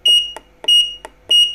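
A digital mosque clock gives three loud, identical electronic beeps at an even pace while its time is being set, with soft button clicks between them and no talking.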